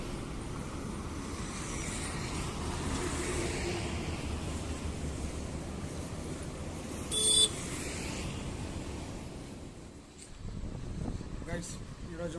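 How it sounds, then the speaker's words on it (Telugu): Steady early-morning road traffic at about 5:30 rumbles close by, with one short horn-like blast partway through and a brief dip near the end, while someone talks over it. "చూడండి గైస్ మార్నింగ్ 5:30 కూడా ఎట్లా ట్రాఫిక్ కదా."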